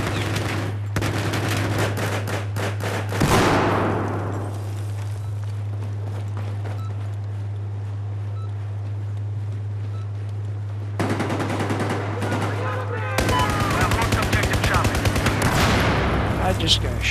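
Rapid automatic gunfire and bursts of shots in a Battlefield 4 multiplayer match, loud and close with repeated volleys and footsteps, over a steady droning background hum and some voice chatter.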